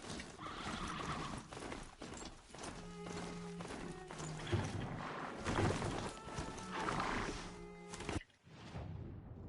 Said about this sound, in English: I called the horse over